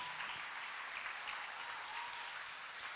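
A church congregation claps during a sermon, steady dense applause heard at a distance and fairly faint, continuing evenly for a few seconds.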